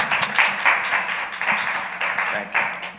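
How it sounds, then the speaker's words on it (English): A youth meeting audience claps to welcome Brother Ernest Waters onto the stage, a sustained, fairly loud ripple of many hands with slight swells in intensity, close and with no speech over it. "Let's clap him up as he comes on."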